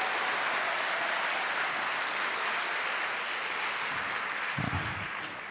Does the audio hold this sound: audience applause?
yes